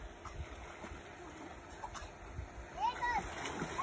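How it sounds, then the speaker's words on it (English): A child's cannonball jump hits the water with a muffled splash and churning, fairly faint and distant, while children's voices and shouts carry on around it. "This is called a cannonball. Whoa, that was a big splash."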